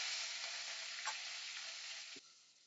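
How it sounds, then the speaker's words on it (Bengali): Chopped onions hit hot oil seasoned with black cumin in a kadai, a bright dense sizzle that starts loud and slowly eases, with a soft stir and a small clack near the end. "এবার কড়াইতে দিয়ে দেব কেটে রাখা পেঁয়াজ কুচি।"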